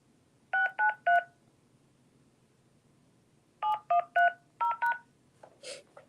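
Telephone keypad touch-tones punch in a phone number on a voicemail system: a quick burst of three beeps, a pause, then five more in steady rhythm, close and clear, with a faint electronic chirp at the end.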